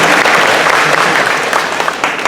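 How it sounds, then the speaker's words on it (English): Loud, dense clapping from a crowd at a US citizenship naturalization ceremony in a middle school, sustained throughout and fading slightly toward the end. "let's go ahead and give them a round of applause"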